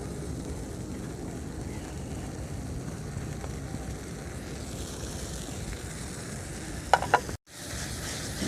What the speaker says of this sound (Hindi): अच्छी तरह इसको भून लेंगे मसाले को।